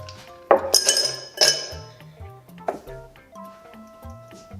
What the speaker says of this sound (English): We want ice in here